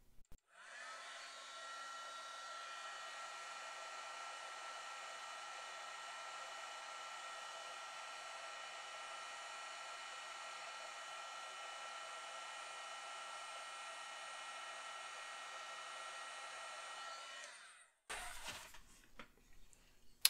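A heat gun blows steadily on heat-shrink tubing over soldered motor wires, a continuous even rushing whine lasting about seventeen seconds before it cuts off into brief clattering.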